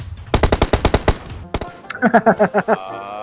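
Rapid bursts of automatic gunfire from PUBG Mobile crack out loud and close in a quick rhythmic string, followed by a run of shorter pulsing game sounds.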